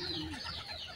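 Racing pigeons, young birds back from a three-kilometre winter training flight, circle overhead with steady wing noise and a soft cooing call, close and continuous across the short stretch.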